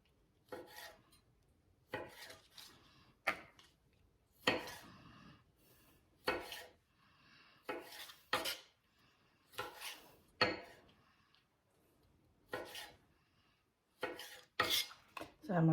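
A knife quarters small sweet tomatoes for a Tex-Mex chopped chicken salad, striking a cutting board in a steady series of crisp, close taps and short scraping cuts, with brief pauses between strokes and no talking.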